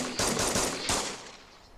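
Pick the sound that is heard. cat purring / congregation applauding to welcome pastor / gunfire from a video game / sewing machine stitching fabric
gunfire from a video game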